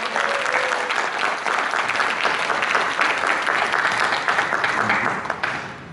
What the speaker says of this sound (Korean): 강사 목사님을 박수로 모시겠습니다.